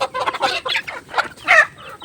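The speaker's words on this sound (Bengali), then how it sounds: "তো এখন আমি মুরগিগুলোকে সব ছেড়ে দেবো। দেখো আমার কত মুরগি আছে।" Hens and roosters let out of their coop in the morning cluck and squawk in quick, overlapping calls close by, busy and fairly loud, with no voices.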